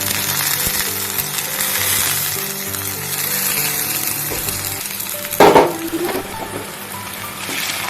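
Masala frying in oil with browned onions for an Odia egg and potato curry, a steady close sizzle throughout with a brief louder burst of clatter and hiss midway, no voices.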